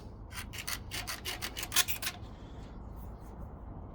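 An old gasket being scraped off a Jeep part with a gasket scraper, heard as a series of quick, rhythmic rasping strokes that then fade into a quieter hiss.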